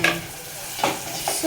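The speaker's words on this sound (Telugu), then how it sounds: "పోపు మిశ్రమాన్ని తిప్పుకోవాలి కాదు, కలుపుకోవాలి" A spoon scrapes and stirs a sizzling popu tempering for masala dal in a pan, with a few short clinking strokes over a low, steady frying hiss.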